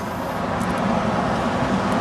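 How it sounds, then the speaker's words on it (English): Loud trucks passing along a city street, a steady broadband roadway rumble with no voices over it. "oh, the trucks are loud."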